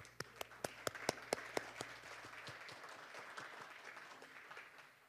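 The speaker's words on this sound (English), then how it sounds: "please give them a big round of applause once again" A conference audience applauds, beginning with a few loud, distinct claps and continuing as a softer, steady patter of clapping from the crowd.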